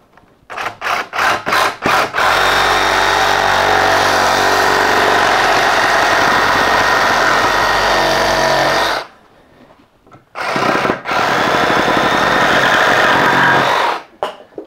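A Milwaukee 18V reciprocating saw cuts through wood with nails driven into it. It gives a loud, steady buzzing drone that runs about seven seconds, then a short pause, a brief start, and a second sustained cutting run.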